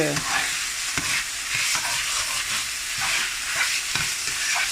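Ground beef fries loudly in a pan for a beef sandwich as tomato sauce is added. A dense, close sizzle runs throughout, with the utensil knocking and scraping at irregular intervals.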